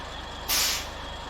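A heavy truck in the SnowRunner video game, Amur region, shuts down its engine with one sharp, loud burst of air-brake hiss lasting about a third of a second. It sits over a steady low engine drone.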